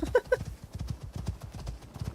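A horse's hooves clip-clopping at a steady rhythmic pace in the survival video game Icarus, close and clear, with a brief whinny at the start.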